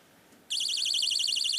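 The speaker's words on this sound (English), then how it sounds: "And now comes the pee-pee alarm." A novelty alarm goes off during a magic trick on a stage performance show: a loud, high, warbling electronic tone cuts in abruptly after a short quiet moment and keeps pulsing rapidly and steadily.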